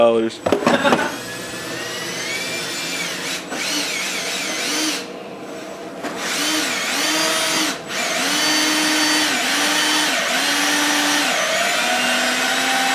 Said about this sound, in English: That drill seems quite a bit more effective than mine.